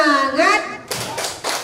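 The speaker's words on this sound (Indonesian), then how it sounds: "Tepuk semangat." A classroom of children performs a rhythmic spirit clap, opening with a teacher's voice and then a few distinct group claps and shouts, fairly close and loud.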